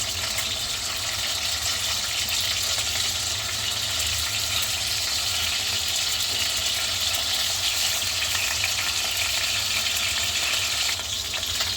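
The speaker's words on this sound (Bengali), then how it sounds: "মাছের টুকরোগুলি হালকা করে ভেজে নেব। এবার টুকরোগুলি উল্টে দিচ্ছি।" Pieces of snakehead fish frying in a pan give a continuous, dense crackling sizzle, close and even in level throughout, with no talking.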